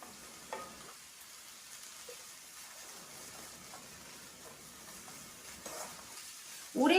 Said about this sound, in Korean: 지글지글 자작하게 국물이 있도록 고사리를 볶아주셔도 좋을 것 같습니다